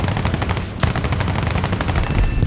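Aircraft gunfire in the War Thunder air combat game: loud, rapid machine-gun bursts rattle almost without pause, dense and close.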